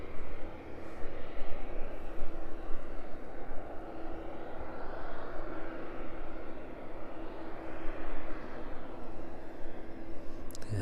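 Cargo aircraft departing East Midlands Airport in the evening, a continuous broad engine roar heard from a distance, steady and sustained throughout with no voices.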